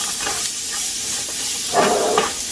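Steady hiss of food sizzling in a hot frying pan for a spicy chickpea breakfast wrap, close and fairly loud, swelling into a couple of stronger sizzling bursts near the end.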